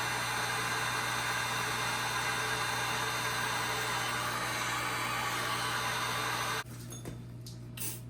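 Heat gun running with a steady whirring fan and hiss, close and constant for several seconds, then cutting off abruptly, leaving quieter background noise and a few faint knocks.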